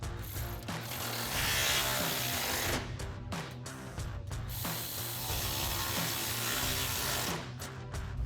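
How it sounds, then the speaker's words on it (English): Ratchet wrench with a 10mm socket tightening original bracket hardware during exhaust installation on a 2021-2024 EcoBoost Ford F-150, heard as a steady run of close clicking over a constant low hum, no talking. "And tighten it down with our 10mm socket."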